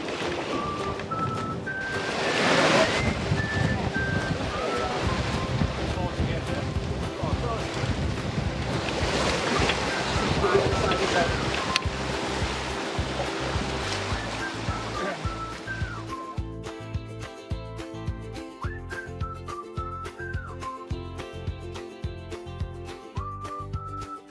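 Wind of about 14 knots rushes over a sailing yacht at sea under full sail, with waves washing and surging against the hull in a loud, continuous roar, the water texture shifting partway through.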